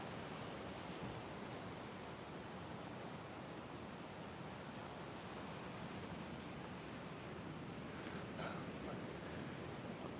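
Steady ocean surf washes continuously at a San Diego oceanfront, a dense broadband roar of breaking waves with no voices, holding an even level throughout.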